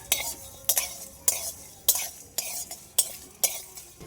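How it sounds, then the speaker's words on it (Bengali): Chopped ginger and cumin seeds are stir-fried in a pan, with seven evenly spaced, crisp spatula scrapes over a soft, quiet sizzle, heard up close. "এবার এর মধ্যে দিয়ে দেবো আদা"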